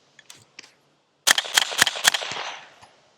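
Rapid suppressed gunshots through an AnechoX 35 Compact suppressor, four sharp cracks in quick succession with a short ringing tail, preceded by two faint mechanical clicks.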